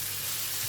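Ginger and garlic paste frying in a pan while tomato rice is cooked, giving a steady, even sizzle that stays close and fairly quiet throughout, with no talking.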